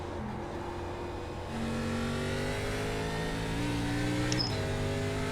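In iRacing, an ARCA Menards Series race car engine drones steadily, then its pitch climbs through two gear changes as the throttle opens hard out of a corner, with a brief tire chirp near the end.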